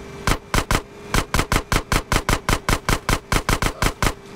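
Steady, evenly spaced gunshots in GTA San Andreas as a gate is shot out, about eighteen loud, close rounds in a regular rhythm with no talking.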